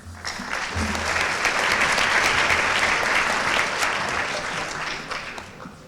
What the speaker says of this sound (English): if you could give a round of applause to John Norgard from the Chick Evans Caddy Scholarship and Robin Weiss